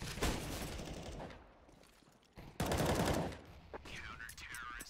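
Glock pistol fire in a CS:GO match on Dust2 comes as bursts of sharp, loud shots clustered at the start and middle, with fainter game sounds and whizzing effects between them.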